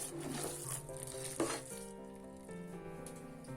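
Cooked rice and lentils for khara pongal stirred from the cooker in a quiet kitchen, a soft, close bubbling sizzle with a light scrape partway through and no talk.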